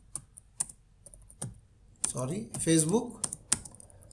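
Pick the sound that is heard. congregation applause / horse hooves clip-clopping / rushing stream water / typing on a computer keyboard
typing on a computer keyboard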